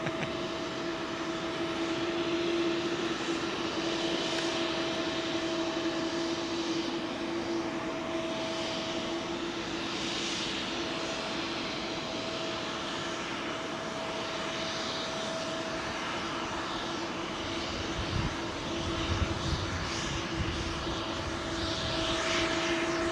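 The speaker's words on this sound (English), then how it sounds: "this Air Canada jet coming out." An Air Canada jet departing runway 27L at London Heathrow, a sustained distant roar of jet engines with a steady whine, rolling on and on without voices.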